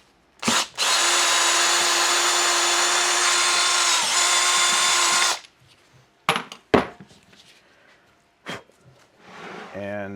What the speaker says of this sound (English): This is a drill, by the way, not an impact driver.